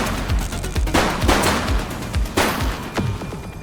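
Rapid bursts of gunfire in the video game The Precinct, several sharp shots cracking in quick irregular succession across the whole stretch, loud and close with some reverberant tail.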